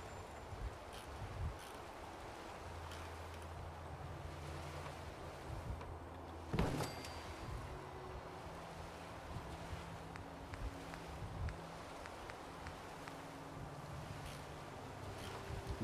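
Steady sea wind gusts across a coastal area in Fallout 4, a constant low rushing with brief louder swells and one sharp burst partway through, and no voices.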